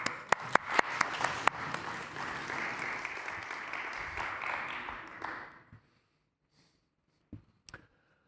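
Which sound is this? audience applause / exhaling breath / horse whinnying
audience applause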